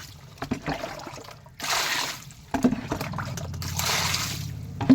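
Fish are rinsed in a bowl of water for a curry, giving splashing, sloshing bursts and dribbles in short irregular spells, close and moderately loud, with no talking.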